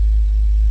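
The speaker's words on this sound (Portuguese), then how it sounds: "eu dou uma encostadinha aqui no acelerador para ele alterar" Car engine running with a brief light press of the accelerator, a loud, steady low hum with deep rumble, close and continuous, little audible rise in pitch.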